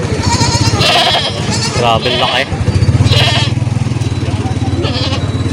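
Large goats bleat repeatedly at a crowded livestock market in Padre Garcia, Batangas, loud and close, while people talk throughout and an engine idles in the background.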